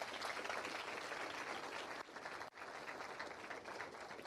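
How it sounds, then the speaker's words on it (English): Audience applause at a 2020 hospitality school graduation ceremony, dense sustained clapping from a sizable crowd at moderate distance, with a brief dip midway before continuing. "Another round of applause, please."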